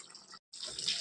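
Water is poured into a pan of chicken curry on the stove, giving a short splashing sizzle, a brief pause, then louder bubbling hiss up close.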